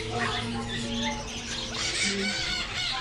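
At a crowded exotic animal market in Thailand, grey parrots squawk from a small cage amid a constant noisy wash of birds, voices and market bustle, their harsh calls mixed into the dense background.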